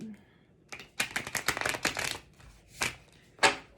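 Tarot cards are shuffled close by in quick riffling bursts followed by a few separate slaps and flicks as the deck settles.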